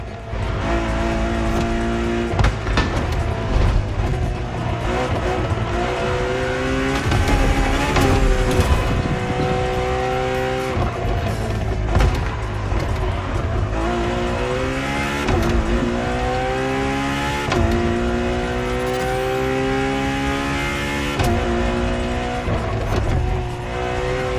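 A Ferrari road-legal Formula One-style hypercar in the racing game The Crew Motorfest revs loudly and continuously, its engine pitch climbing and dropping through repeated gear changes, with occasional tire squeal, close and dominant throughout.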